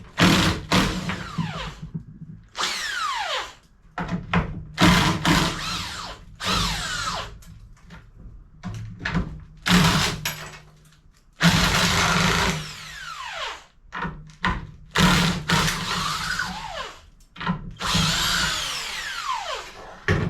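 Electric impact driver breaking off old bolts on a fishing kayak, loud repeated bursts of rattling hammering with short pauses between them, close up, no talking.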